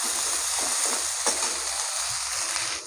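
Onions sizzle lightly in a pan for a Bengali tilapia and potato curry, giving a steady, close, even hiss with a few faint stirring clicks underneath.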